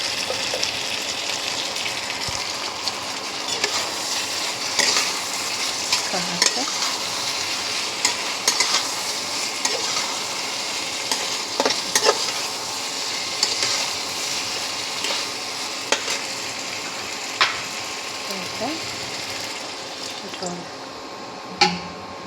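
Fish curry with eggplant bubbles and simmers in a pan, making a continuous close sizzle with occasional stirring and scraping. A person talks now and then over it.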